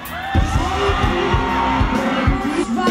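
A concert audience cheering, whooping and shouting as a singer walks onto the stage, a loud sustained crowd roar with sharp bursts of screams.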